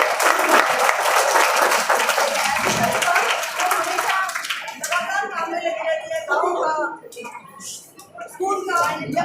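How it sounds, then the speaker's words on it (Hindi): Applause rings out at a girls' senior secondary school Independence Day celebration as a guest is welcomed, a dense burst of hand clapping from a gathered crowd that thins and fades toward the end. "इनके लिए भी उनके स्वागत में तालियां।"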